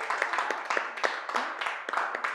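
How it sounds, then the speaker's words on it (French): A small audience applauds a Malian diva with a dense, close run of hand claps that keeps up a steady, moderately loud patter. "On peut l'applaudir."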